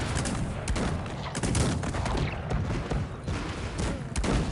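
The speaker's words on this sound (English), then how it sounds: "those multi-barrel cannons, my god" Dense, continuous rapid gunfire from multi-barrel cannons in the game Cossacks 3 multiplayer, a loud sustained barrage of overlapping bursts with heavy booms throughout.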